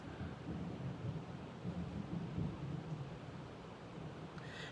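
Thunder rumbles low and steady through the background during an indoor acrylic painting session, a continuous distant roll lasting several seconds with no speech over it.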